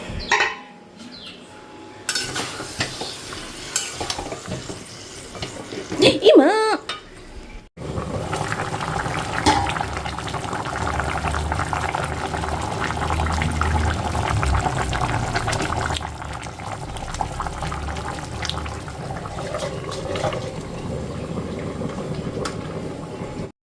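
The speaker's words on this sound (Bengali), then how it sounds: "চলো আলুগুলোকে দিয়ে দিই তারপরে জল দেবো" Water poured into a pot of potatoes cooking with browning spiced chicken, a sizzle giving way to steady bubbling and simmering that carries on close and moderately loud, with a few clinks of utensils.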